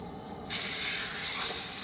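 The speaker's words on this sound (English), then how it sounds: "Now we're going to go ahead and throw it right here onto the hot pan." Sliced, seasoned pork hitting a hot pan: a sudden loud sizzling hiss starts and holds steady, close and alone.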